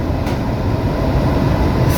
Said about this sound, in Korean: 저 지하철에 탔습니다. 지하철이 되게 예뻐요.